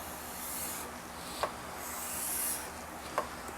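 A hand scraper shaves a wooden guitar neck on a custom build, a soft rasping rub with two brief sharper scrapes, faint and close with no talking.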